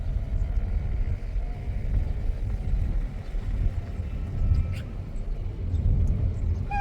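A new car being driven during a first driving lesson, its engine running with a low, steady rumble and road noise, close and continuous with no one speaking.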